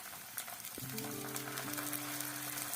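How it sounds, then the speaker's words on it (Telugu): Ginger garlic paste sizzling in a hot pan while cooking chicken kurma, a steady close frying crackle throughout, joined partway by a sustained tonal hum in the background. "అల్లం వెల్లుల్లి పేస్ట్ ఇలా బాగా ఫ్రై అయిన తర్వాత"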